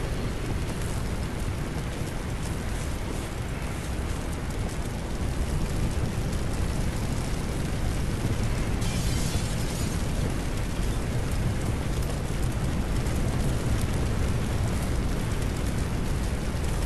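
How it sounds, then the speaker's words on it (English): A raging fire in the Firefighter Simulator video game roars as a steady, loud, dense crackling rush, with a brief hissing burst partway through and no talk. "that fire's raging over there"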